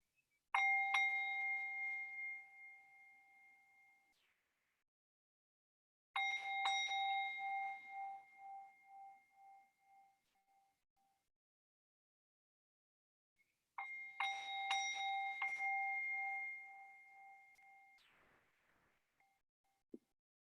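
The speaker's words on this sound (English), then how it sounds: "we'll listen together again to the bell" A meditation bell is struck three times in a quiet room. Each strike rings out clearly and then decays slowly over several seconds, with long silent gaps between the strikes.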